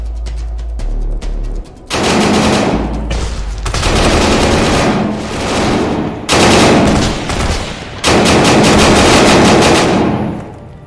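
Loud automatic gunfire in the Tactical Assault VR shooter game during close-quarters fighting: long rattling bursts separated by short gaps, near and heavy.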